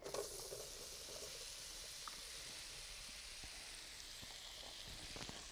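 Peaches hitting a hot pan set off a soft, steady sizzle with faint crackles, heard close but quiet and unbroken, without voices.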